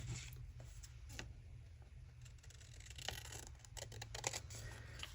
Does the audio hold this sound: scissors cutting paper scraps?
yes